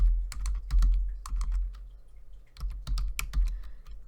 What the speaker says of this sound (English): Here we are typing this longhand.